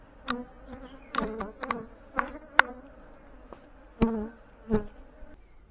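Honey bees buzz around a beehive on an overcast day, a low steady hum broken by several sharp close passes as individual insects fly near, with no talking.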